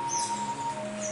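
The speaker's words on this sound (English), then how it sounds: "it sounds like a sparrow's gotten in here." A sparrow chirps indoors, high thin calls drifting faint against a steady hum and a low tonal drone, with no talking.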